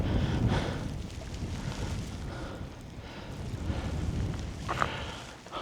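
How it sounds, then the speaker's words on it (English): Strong gusts buffet the microphone on an open UK hiking trail, a rough, low rumbling roar that surges and eases over several seconds with no other sounds. "What a day, a bit windy."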